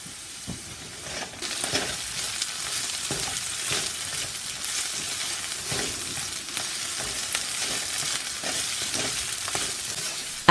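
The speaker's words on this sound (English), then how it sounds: "Fry until fragrant." Chopped garlic frying in a pan gives a continuous bright sizzle with small pops and stirring scrapes throughout, fairly close and without any voices.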